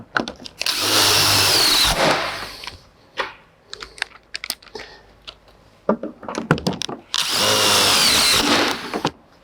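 A power drill drives fasteners into a beam attachment bracket, with two long loud whirring bursts at the start and near the end and scattered clicks and knocks of handling between them.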